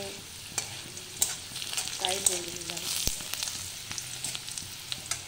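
Food fries in blackened oil in a wok, where parwal was fried just before, with a soft steady sizzle broken by irregular scrapes and clinks of a stirring spatula; a few words are spoken briefly.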